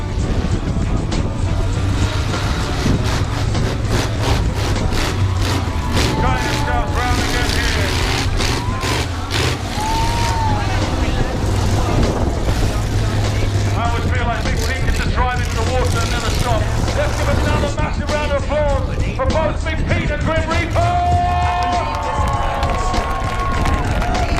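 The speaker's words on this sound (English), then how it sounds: "An absolute joy to see these monster trucks tearing it down Bournemouth beach here at the Wheels Festival." Monster trucks tear along a sandy beach at a seaside wheels festival, their engines roaring steadily amid loud crowd noise and wind, with a voice talking over the din.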